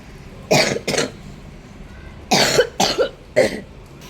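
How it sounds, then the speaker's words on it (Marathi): Five coughs from a woman who is unwell, in two groups: a pair early on, then a cluster of three after a pause, close and fairly loud with quiet in between. "व्हिडिओ चालू केला नाही तोपर्यंतच खोकला"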